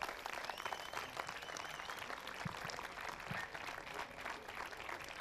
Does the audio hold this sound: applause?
yes